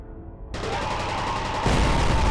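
Gunfire erupts in the video game F.E.A.R. during a firefight, a dense burst of shots that starts suddenly and grows louder partway through, with no talk.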